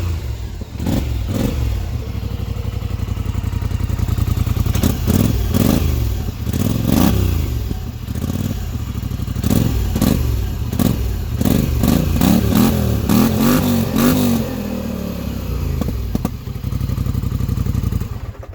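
A 2020 Polaris Sportsman 850 ATV with its stock exhaust idles loudly up close and is blipped through several sharp revs, with thumping, clattering engine pulses throughout.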